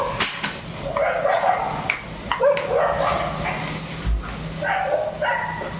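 Dogs bark and whimper in short bursts over a constant hiss of background noise, sounding close.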